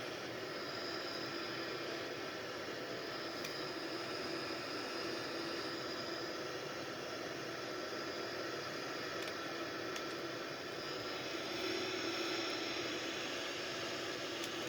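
Boeing 787 jet engines in flight make a steady, broadband roar that stays even and unbroken throughout, heard as constant cabin-level noise with no talk.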